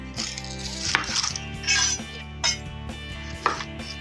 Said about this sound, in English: I'm going to start by chopping up this onion